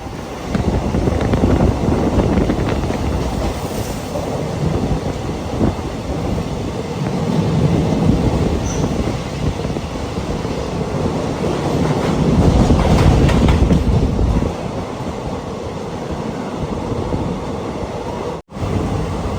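Heard from aboard the Matsyagandha Express as it runs through the Kulashekara tunnel: a loud, sustained roar and rumble with buffeting, wind-like rushing, rising and falling but continuous, and no voices.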